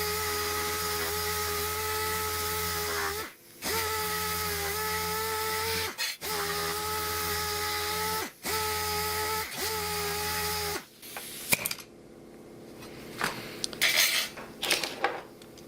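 A DA sander fitted with an 80-grit sheet grinding on sheet metal. It runs in a loud, steady whirring buzz in several bursts with brief stops, then ends with scattered clanks and scraping near the end.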